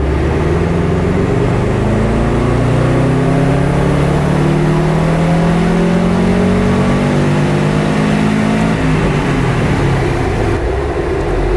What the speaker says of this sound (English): bring it up to 2000, third gear, and away we go